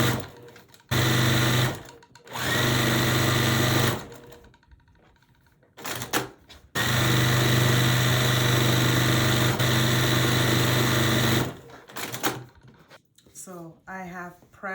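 A sewing machine stitches quilt pieces together for a barn star block, running in loud sustained bursts of rapid mechanical chatter with brief stops between runs, and a voice speaks near the end.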